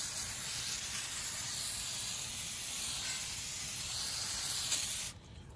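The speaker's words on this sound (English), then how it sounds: "spray some brake cleaner on there. In this case, for example, CRC brake clean." CRC brake cleaner sprays onto brake calipers in one long steady aerosol hiss up close, cutting off abruptly near the end.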